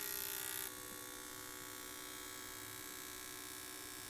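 An Autool CT160 fuel injector cleaner runs its high-speed test, giving a steady, fairly faint electric buzz and hum with a louder burst in the first moment before it settles into an even drone.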